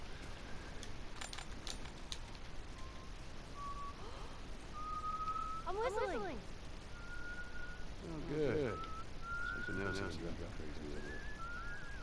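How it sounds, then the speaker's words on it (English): Melodic human whistling in The Last of Us stealth gameplay: several sustained tones and short phrases rising and falling over ambient game noise, with brief jangling clinks and cooing-like sounds in between. "I'm a whistling champion"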